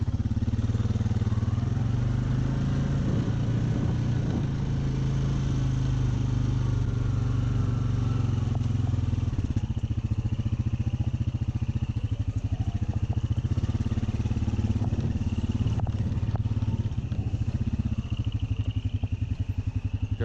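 ATV engine running steadily up close while riding a freshly cut trail, a continuous low droning rumble with slight rises in revs and clattering from the machine over rough ground.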